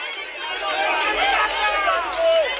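A crowd cheers and chatters at a rugby sevens final between Uganda and South Africa in Mauritius, a steady broad roar of many voices with no commentary over it.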